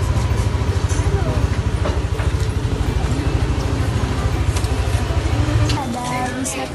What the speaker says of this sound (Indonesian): ini adalah tempat parkir Taman Sari